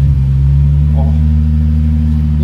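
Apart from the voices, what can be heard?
car engine revving through aftermarket muffler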